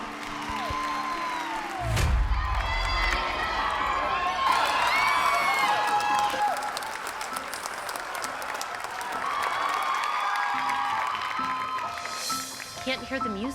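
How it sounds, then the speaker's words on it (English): A large audience at a dance competition screams, cheers and applauds loudly and continuously, with shrill whoops rising above the din and a thump near the start. "The crowd is screaming"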